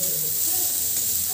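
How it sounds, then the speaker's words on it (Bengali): Grated carrot frying in a pan while being stirred, a continuous close hissing sizzle with faint scraping movement underneath, no clear talk. "গাজরটাও আমি একটু ভালোভাবে নেড়ে চেড়ে ভেজে নেব।"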